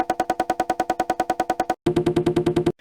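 A conga sample arpeggiated at 1/16 notes in the Serum 2 software synthesizer repeats as a fast, even stream of bright percussive hits, briefly stopping before resuming at a lower pitch.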